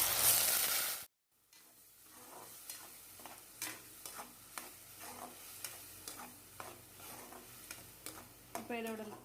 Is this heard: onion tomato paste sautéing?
yes